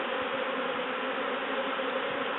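A swarm of honey bees hums at a top bar hive, a thick continuous drone of many wings, close and steady, with no voices.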